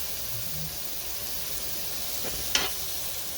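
Food frying in butter in a pan in an RV kitchen, a steady close sizzle throughout with a brief sharp crackle or spatter near the end.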